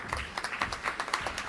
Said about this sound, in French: Je veux aussi l'applaudir.